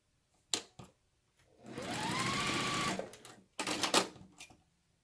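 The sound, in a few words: sewing machine stitching quarter-inch seam on quilt block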